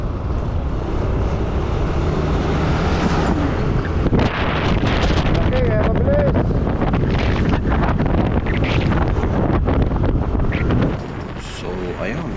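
Heavy wind buffets the microphone as a vehicle travels along a rural provincial road near the Pangasinan–Nueva Ecija boundary, a loud continuous roar with gusty rumbles and faint voices underneath, easing near the end.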